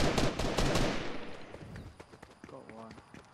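Rapid gunfire bursts from a Fortnite match crackle densely at first, then thin to scattered shots while players chatter over the action.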